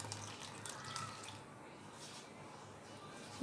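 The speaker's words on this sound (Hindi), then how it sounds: "अब इसमें मैं हाफ कप पानी शामिल करूँगी।" Half a cup of water pours softly into a pan of mango pulp on a low flame, a faint, brief trickle and splash heard close up and quiet.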